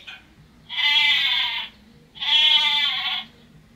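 Two loud, drawn-out electronic sheep bleats from a children's sound book, each about a second long with a wavering tone, separated by a short pause.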